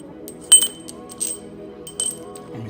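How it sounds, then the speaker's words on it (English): A metal bolt drops into a hole in a welded EFParts traction bar, giving a sharp metallic clink followed by smaller rattling taps as it settles, then two more light knocks, close and alone in a quiet room. "now put a bolt in and it goes all the way down"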